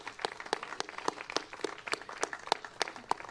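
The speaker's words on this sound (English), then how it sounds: "So a big round of applause for David" A congregation at a Shabbat service claps for David, its applause a lively spread of sharp hand claps at fairly even volume, with no voices over it.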